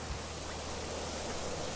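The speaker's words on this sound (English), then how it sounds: "it's gonna be raining." Rain in the video game Generation Zero, a short, even wash of hissing rainfall with no other sounds and no talking.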